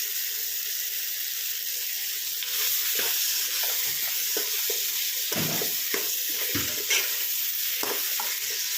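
Mutton fry sizzles steadily in a pan as it dries out, with repeated scraping and stirring strokes over a constant frying hiss and no talking.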